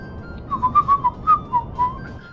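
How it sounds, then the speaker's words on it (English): A person whistles close into a microphone, a short tune of several bright, distinct notes rising and falling, loud and alone with no talk. "No, I shouldn't be whistling."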